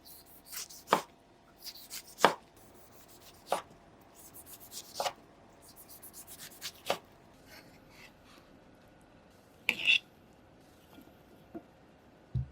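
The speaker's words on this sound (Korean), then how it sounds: "토마토 2개는 사방 1cm의 작은 크기로 썰어주세요." Knife chopping two tomatoes into small 1 cm cubes on a cutting board, heard as sparse, irregular sharp taps spaced a second or more apart, close and fairly quiet with no talking.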